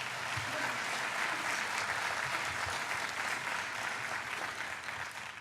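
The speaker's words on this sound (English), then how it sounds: "One more round of applause" A large audience at a university fall welcome event applauds steadily, producing a thick, continuous roar of many hands clapping that stays level throughout and eases slightly at the close.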